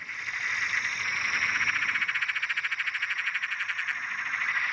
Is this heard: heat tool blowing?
no